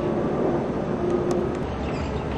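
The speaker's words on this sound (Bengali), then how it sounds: "বিমানের শব্দ, তাই না? বিমান দেখা যাচ্ছে না মেঘের জন্য।" An airplane passes overhead, hidden in cloud above Sydney, Australia, as a broad, steady distant roar that holds level for a couple of seconds with no talking.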